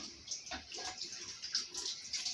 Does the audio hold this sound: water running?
yes